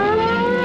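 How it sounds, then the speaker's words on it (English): A loud, steady civil defense siren wail with strong harmonic tones, sustained without a break over the short stretch. "Florida built a number of sirens on the roofs of tall buildings to warn the public"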